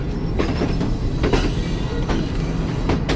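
The Green Line Express, a premium train from Karachi, runs at speed past Samasata Junction station, a steady loud rumble of wheels on rails with rhythmic clicks and faint squeals heard from inside the carriage.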